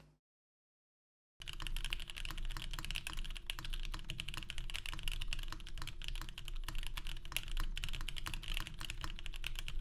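Steady, continuous typing on a custom mechanical keyboard built on a Revo PCB with a regular caps lock, dense clicky keystrokes running close and alone after a brief silent start.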